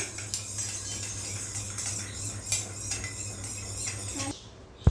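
A spoon clinks and scrapes inside a cup while toothpaste, sugar and water are stirred into a slime mixture, a run of light rhythmic taps close by that ends in one sharp knock, with no talking.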